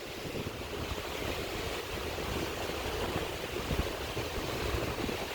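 Ocean waves wash in on a muddy shore at night, a steady, fairly faint rush of surf with some wind noise and no clear individual breakers.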